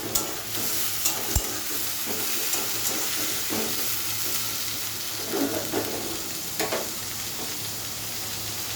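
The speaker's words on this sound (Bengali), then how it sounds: "এই পেঁয়াজটা দিয়ে দিচ্ছি" Onion fries in hot oil for a chicken curry, a steady close sizzle with scattered pops and occasional spoon scrapes and knocks against the pan, no voices.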